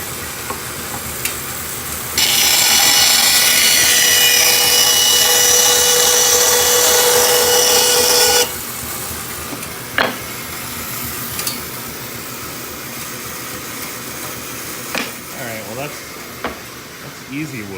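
A Crescent 32-inch bandsaw slices through easy wood in a shop, its loud, steady buzzing cut lasting about six seconds before dropping back to the quieter whir of the running machine, with a few knocks and clicks afterward.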